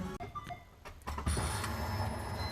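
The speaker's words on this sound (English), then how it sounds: "Just testing the fuel pump and you can hear it going alright." The electric fuel pump of a Mitsubishi Evo 8 switches on with a few clicks, then settles into a steady, close mechanical whir and hum.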